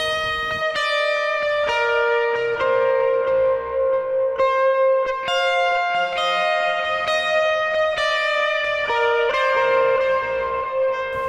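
An ambient electric guitar line played through a Strymon Big Sky reverb pedal with its cab filter switched off, with chiming notes and chords ringing into long, shimmering reverb tails that wash together continuously, bright and upfront with no talking.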